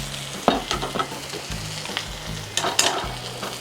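Chilli powder and Kashmiri chilli powder heating in a pan for a Kerala mackerel curry sizzle and fry under repeated stirring scrapes, with a steady low hum of frying and a few louder clatters.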